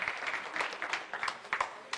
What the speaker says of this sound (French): On applaudit notre hôte.